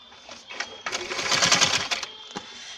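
Sewing machine stitching bias piping, a short close burst of whirring stitching that swells and fades, with a few clicks before and after.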